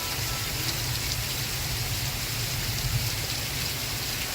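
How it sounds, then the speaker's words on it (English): Steady rain falls continuously without pause, a dense even hiss with a low rumbling undertone, fairly close and constant throughout with no voices. "Even though it is raining."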